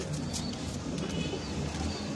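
Pigeons of rare fancy breeds coo in a loft, soft low throaty calls repeating steadily through a continuous noisy background.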